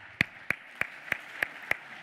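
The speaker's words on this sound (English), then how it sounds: "I'd like to have a really loud applause for him, please." Sparse, evenly spaced claps, about seven over two seconds, welcoming a finance-tech pitch presenter on stage; crisp and fairly close, more like one person's slow clapping than a full crowd.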